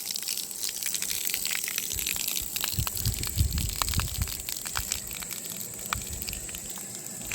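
Water from a tank tower gushes steadily onto a concrete slab, a continuous loud hissing splash that swells briefly in the middle before settling back to a constant rush.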